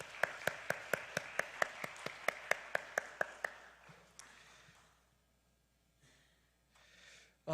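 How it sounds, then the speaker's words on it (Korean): Applause for discipleship training graduates at a church service, a run of evenly spaced, sharp claps over about three and a half seconds, fairly close, then fading into quiet room tone. "우리 다시 한번 우리 제자훈련 수료생들에게 박수 하도록 하겠습니다."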